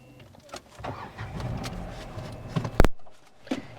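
A Renault Triber RXT compact car starts up from inside the cabin, with a low rumble building to one sharp, loud starter catch near the end, after which the engine settles quieter.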